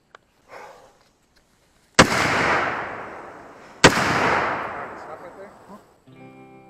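Two loud, sharp gunshots outdoors, each followed by a long rolling echo, with a few faint clicks and a brief voice nearby.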